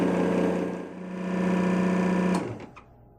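A JFJ Easy Pro disc repair machine buffing a badly damaged disc, a loud steady whirring motor hum that dips briefly, then winds down with a click near the end, no talking.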